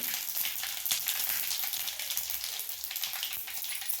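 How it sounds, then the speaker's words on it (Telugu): Mustard seeds and cumin splutter in hot oil as dried red chilies go in, a dense crackling sizzle with rapid popping like rain, steady and close throughout. "ఆవాలు, జీలకర్ర కొంచెం చిటమటమన్నాక 2 ఎండుమిరపకాయలు వేస్తున్నాను."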